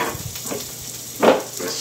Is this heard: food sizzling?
yes